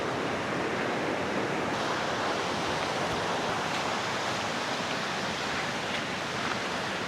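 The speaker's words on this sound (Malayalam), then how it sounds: "ഏതായാലും വെള്ളച്ചാട്ടത്തിനടുത്തേക്ക് എത്തിയിട്ടുണ്ട്" A waterfall in hilly rain-swollen countryside roars steadily in a dense, continuous broadband rush, loud and unbroken with no voices.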